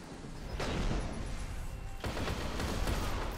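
Shotgun blasts in the video game Destiny, two loud booming discharges spaced about a second and a half apart, each followed by a roaring, noisy tail under the game's background ambience.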